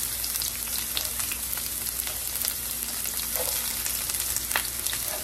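Onions frying in a pan give a steady crackling sizzle with scattered pops, close and continuous throughout, with no talking.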